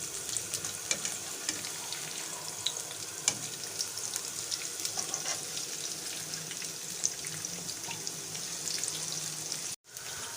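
Chicken malai pakoras deep-frying in oil, a constant dense bubbling sizzle with scattered pops, close and steady, with a brief cut near the end.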